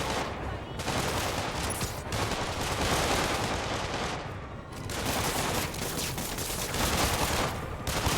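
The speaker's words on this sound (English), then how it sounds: "The police were shooting you with automatic weapons from point-blank range." Police automatic weapon fire in Marvel's Spider-Man, dense, rapid bursts of gunfire clattering almost continuously at point-blank range, loud with brief lulls.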